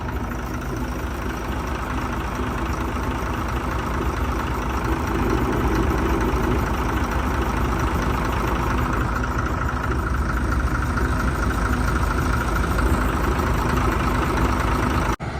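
A 2016-model combine harvester engine idles steadily and loudly nearby, a continuous low drone with no talk over it.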